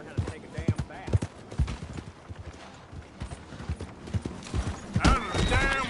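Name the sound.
horse hooves clip-clopping and whinnying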